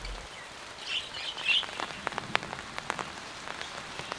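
Rain falls on a surface outdoors, scattered drops tapping close by in irregular quick hits, while budgies chirp and twitter faintly in the background.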